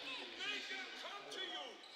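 A basketball bounces on a hard court amid squeaking shoes and a busy gym crowd during a college women's basketball game, with voices talking over the action.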